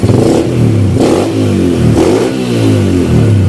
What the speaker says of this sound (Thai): แต่ว่าท่อดัง ครับมีท่อเสียงดังหน่อย